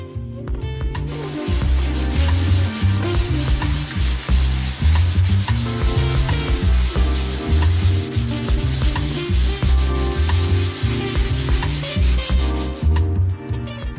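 Hand sanding of guide coat on a car body panel, a loud continuous rhythmic rasping of abrasive paper scrubbing back and forth across the metal, close up and without speech.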